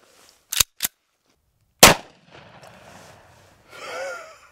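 Gunshots from a .50 Action Express handgun firing 300 grain Hornady loads at soft body armor: two sharp close reports, a pause, then a third loud shot, followed by faint rustling and a brief breathy exhale.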